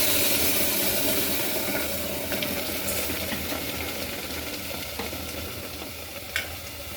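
Boiled toor dal stirred into a hot spiced tempering in a pan, giving a steady loud sizzle and hiss that slowly fades, with faint scrapes of stirring.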